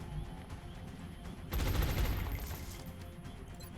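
Gunfire from a shot in the turn-based strategy game XCOM Long War, a loud burst that erupts suddenly over a low background hum and rings out, slowly fading over a couple of seconds.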